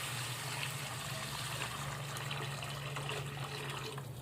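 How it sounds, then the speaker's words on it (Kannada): Water pours steadily into a cooking pot, a continuous rushing splash under a low steady hum, fairly quiet and with no voices. "ಇದಕ್ಕೆ ಇವಾಗ ನಾನು ಎಷ್ಟು ಹತ್ತವ ಅಷ್ಟು ನೀರು ಹಾಕೋತೀನಿ ರೀ"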